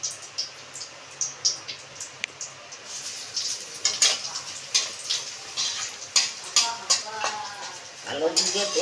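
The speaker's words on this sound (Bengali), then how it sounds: "কালো জিরে তেজপাতা আর শুকনো লঙ্কা এটা ফোড়নে দিলাম।" Black cumin, bay leaf and dry red chili tempering in a little hot oil, with crackling sizzle and repeated clinks of a spoon stirring against the pan, close and moderately quiet.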